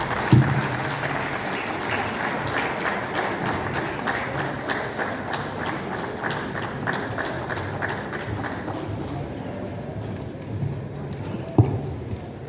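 Steady, dense applause from a crowd at an army Republic Day celebration, continuous at moderate loudness for about eight seconds before thinning into scattered claps and a final thump.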